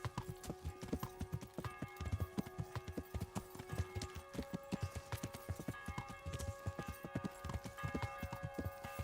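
Horse hooves clip-clopping steadily in the medieval video game Kingdom Come: Deliverance, several horses moving through a waking town with a dense rhythmic patter of hoofbeats over ambient tones.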